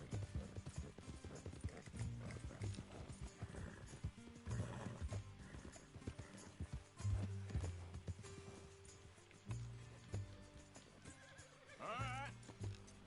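A horse clip-clops along at a walk with occasional whinnies, steady hoofbeats under a low ambient bed, fairly close and moderately loud.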